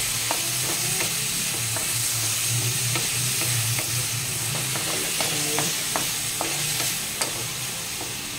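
Pork steak sautés in a pan with a steady, close sizzle and soft stirring clicks throughout.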